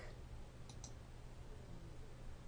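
Two quick mouse clicks, right-clicks on a computer running NVivo analysis software, land close together near the start, faint against a steady hum of room noise.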